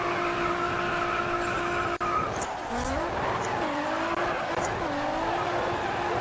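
A Nissan Silvia drifting on a drift setup in GRID Autosport, its engine holding a steady high note, then tires squealing in repeated wavering swells as the car slides, with someone talking over it.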